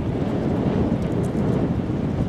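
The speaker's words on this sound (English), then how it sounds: "The wind's picking up, as you may be able to hear." Strong wind gusting on a countryside walk between Borough Green and Sevenoaks, a loud continuous low rumble buffeting the microphone throughout with no voices.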